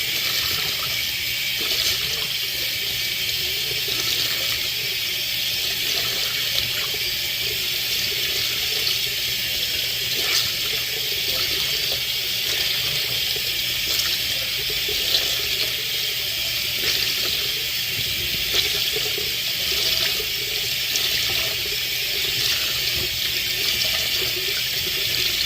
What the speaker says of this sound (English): put the cold water tap on and rinse it under there